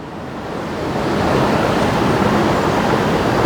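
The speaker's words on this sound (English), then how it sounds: "This river or stream" River or stream water flows in a steady, loud, broadband rush close to the microphone, building slightly over the first second and then holding constant with no voices.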